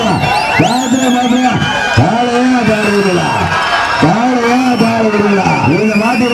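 Outdoor crowd at a jallikattu bull-taming event cheers and claps, with loud whoops and shouting over continuous amplified announcer speech.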